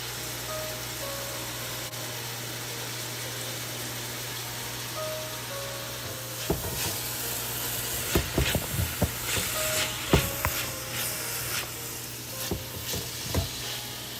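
Sliced onions fry with salt, turmeric and red chili powder over medium heat for a biryani, giving a steady sizzle over a low hum, with scraping stirs growing busier and louder in the second half.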